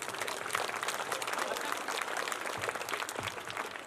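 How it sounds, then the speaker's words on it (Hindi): Audience applause at a school annual function, a steady wash of many people clapping throughout, moderately distant and even in level, with faint crowd murmur underneath. "जोरदार तालियां हमारे नेताजी के लिए।"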